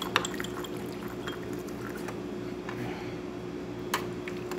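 Hot water runs steadily from a Gaggia Titanium espresso machine into a cup, a quiet continuous pour over the machine's low hum, with a couple of faint clicks.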